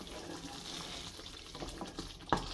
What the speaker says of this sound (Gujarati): અને ફરી પાછું એને મિક્સ કરી લઈશું આપણે